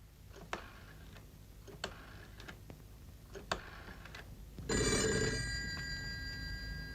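A telephone rings in an indoor scene from a 1987 Indonesian comedy, a sustained bright electric bell coming in after several faint ticks and clicks, loud and steady until the end.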